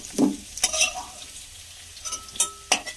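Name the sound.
fried potatoes being lifted out of hot oil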